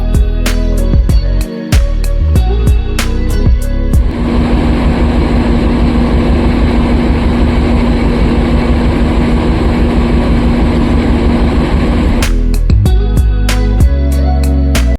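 A train engine rumbles and drones loudly at Siliguri Junction station, a deep steady hum holding for several seconds between sharper clanks and knocks.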